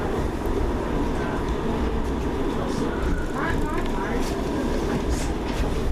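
A train at Piccadilly railway station, with a steady rumbling roar of rolling wheels and faint clicking of the rails, heard fairly close and continuously, with no clear speech.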